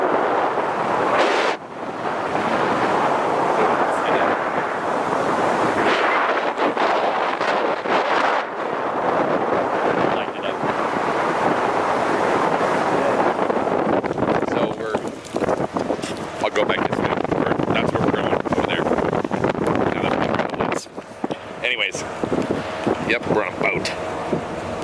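Ferry ride on an open outdoor deck in wind and rain off Canada, with steady, loud broadband rumble of wind buffeting the microphone and the boat's hull and water churning throughout, plus brief gusts and some voice underneath.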